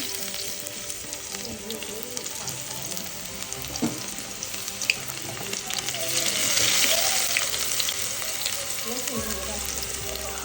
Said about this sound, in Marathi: तेल तापलं की त्याच्यामध्ये आपण कांदा टाकतोय